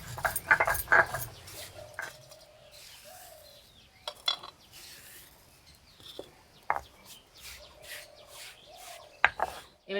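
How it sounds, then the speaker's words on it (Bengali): Roasted whole spices being coarsely ground at home for an onion and egg chop filling: close, intermittent rasping scrapes and knocks in uneven bursts, with faint birdsong in the background. "আধ ভাঙা করে গুঁড়ো করে নেব।"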